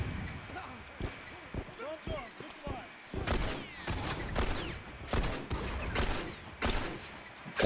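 Repeated gunfire in The Last of Us video game, a burst of sharp shots arriving in quick clusters after an earlier stretch of quieter action, with a voice speaking over parts of it.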